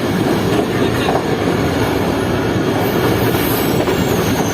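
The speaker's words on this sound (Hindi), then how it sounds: "फाइनली ट्रेन आ गई है।" A train pulling into a railway station, a loud continuous rumble of wheels on track with steady roar and faint high squeal, close by and filling the whole stretch without speech.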